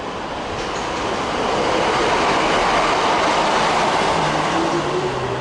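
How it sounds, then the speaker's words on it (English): A Chiltern train rolls past at West Hampstead heading toward London Marylebone, a loud continuous roar and rumble of wheels on rail with a faint rising squeal near the end, close and steady throughout. "Another Chiltern train coming past"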